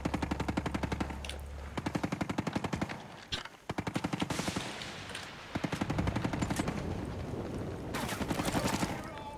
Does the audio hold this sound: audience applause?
no